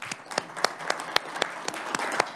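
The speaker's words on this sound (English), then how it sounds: "Would it be appropriate, I mean, honestly, truly, we don't do it very often, to applaud the help of the department for everything they did?" Scattered applause for department staff at a state House appropriations committee hearing, a modest number of people clapping unevenly with distinct sharp claps over a few seconds.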